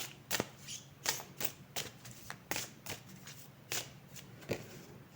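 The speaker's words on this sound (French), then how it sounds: "Je vais prendre une dernière carte." Oracle cards being shuffled and drawn make a string of crisp, close riffling slaps and flicks in an irregular rhythm over about five seconds. They are quiet and heard alone.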